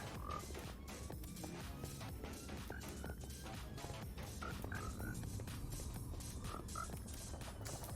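Frogs croak in a Minecraft game world, short chirping calls scattered across a steady low background bed, several repeated croaks clustered at intervals, moderately quiet.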